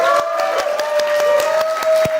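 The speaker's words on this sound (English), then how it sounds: "Another round of applause for Samsung." An audience at Qualcomm's Snapdragon Summit 2024 applauds Samsung with a steady round of clapping over a sustained tonal background.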